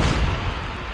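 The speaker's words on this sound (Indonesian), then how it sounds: "Wah, meledak, kalian meledak semua." A loud, low rumbling blast fills a second of Call of Duty Mobile battle audio, dense and broadband, with a booming body that tails off slightly toward the end.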